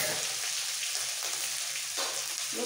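Green chillies and grated ginger sizzle steadily in hot oil with asafoetida for a potato and beans vegetable dish, a close, continuous crackling fry with faint stirring scrapes.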